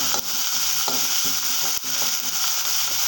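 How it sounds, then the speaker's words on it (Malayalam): Fennel seeds frying in hot oil for a chickpea curry, a continuous bright sizzle with small crackles and a couple of sharp pops. "നടുക്കെ ആ എണ്ണയ്ക്കകത്തോട്ട് ഞാൻ ഇട്ട് കൊടുത്തിട്ടുണ്ട്. ഇതൊന്ന് മൂക്കട്ടെ"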